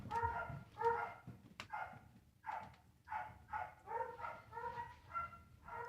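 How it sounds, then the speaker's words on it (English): A dog barks repeatedly outdoors near a parade route, about ten steady, evenly spaced barks at a moderate distance over a low rumbling background. "Much dog, much bark."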